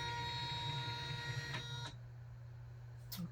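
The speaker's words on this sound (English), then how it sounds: "carriage will now move into the start position" A Janome Memory Craft 9850 embroidery machine whirs steadily as its carriage moves to the start position, then stops abruptly partway through and leaves quiet room tone with a faint click near the end.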